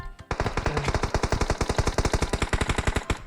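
Automatic gunfire in PUBG Mobile, played on PC, rattles out as one long, loud burst of rapid, evenly spaced shots, roughly thirty in three seconds, close and with no talking.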